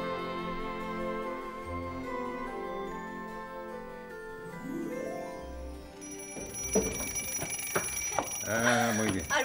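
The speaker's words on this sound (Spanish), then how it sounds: "Preparo el despertador." An alarm clock rings with a rapid metallic clatter over soft background music near the end of a scene from a children's TV drama. Voices are heard around it.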